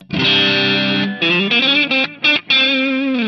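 A Mooer GTRS M810 electric guitar plays through heavy high-gain amp distortion, a sustained gritty chord followed by several choppy, bending notes, loud and close.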